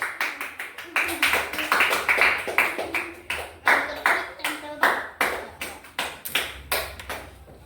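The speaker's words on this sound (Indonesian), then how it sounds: "Tepuk tangan lah." A classroom of students claps in unison, sharp, loud rhythmic beats at a brisk steady pace, with voices talking over the clapping.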